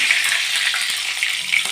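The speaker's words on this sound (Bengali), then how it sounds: "সোনার লঙ্কাটা ভাজা হয়ে গেছে।" Green chillies frying in oil in a pan with garlic, a steady close sizzle with small crackles throughout, no talking.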